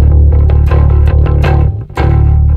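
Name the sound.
bass guitar through octave effect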